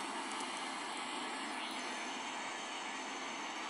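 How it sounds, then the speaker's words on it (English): A Kenya Airways airliner departs Gran Canaria International Airport with a steady, loud, broadband jet roar that holds evenly throughout. "And here comes Kenya Airways."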